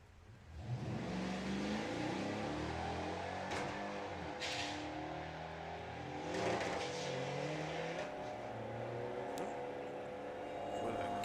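VW drag racing cars, a little 100E against a TDI Polo, launch and accelerate hard down the strip, engines revving and rising in pitch with a brief tire chirp, heard from a distance.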